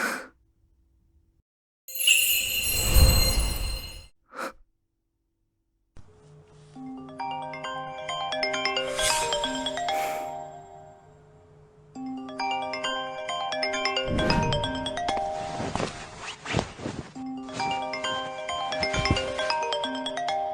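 A mobile phone rings late at night with a melodic electronic ringtone for an incoming call from mother, looping tuneful phrases that play on after a short sharp breath at the start.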